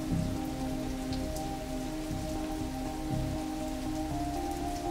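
Steady rain pours down throughout, a dense continuous hiss of drops striking surfaces at close range, with low rumbling beneath and no voices.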